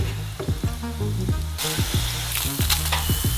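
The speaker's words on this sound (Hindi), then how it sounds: "केवल इसे डीप फ्राई करना बाकी है। गोल्डन होने के बाद निकालेंगे।" Battered hot dog deep frying in hot oil, a steady close sizzle with bursts of crackling and bubbling, with thumps and knocks underneath, no voices.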